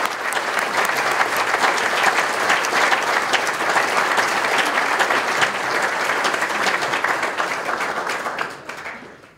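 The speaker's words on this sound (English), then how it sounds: "one last round of applause for our inductees for 2021." A crowd at a 2021 USA Softball of Michigan Hall of Fame ceremony applauds the inductees with loud, steady clapping that fades away at the end.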